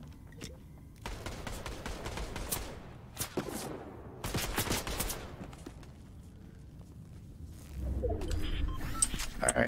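Bursts of gunfire in the video game Fortnite, several rapid volleys of shots with brief pauses between them, fairly close and loud, with footsteps and other game noises mixed in.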